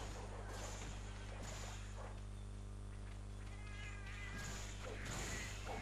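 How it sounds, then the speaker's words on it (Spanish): Cat-like meowing from a creature in the video game Monster Hunter Generations, several short mews rising over a steady low game soundtrack and ambient rumble, fairly faint and intermittent. "El miau este."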